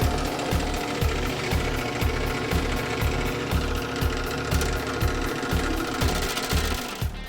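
A Dake power hammer pounds a sheet-metal firewall to form a step, a fast, steady mechanical hammering that runs loud and close throughout, with no voices.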